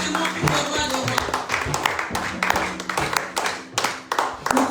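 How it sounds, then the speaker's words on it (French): A church congregation claps rhythmically and steadily while acclaiming Jesus as king of kings, with voices calling out over the dense, continuous applause. "Nous acclamons pour le roi de rois."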